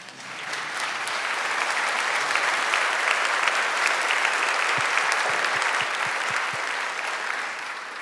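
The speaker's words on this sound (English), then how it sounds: "And for good measures, another round of applause," A second round of audience applause at a conference panel discussion, a steady wash of many hands clapping for the full stretch, fairly loud and even, fading a little toward the close.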